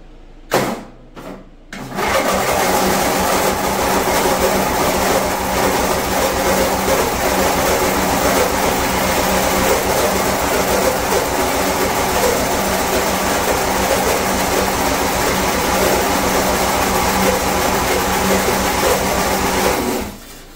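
A neglected Lawn Chief lawn tractor with a snow blower attachment, choke pulled and a little throttle, cranks in a few short bursts, then catches and runs steadily with a rough, rattling engine note close by until it cuts off near the end.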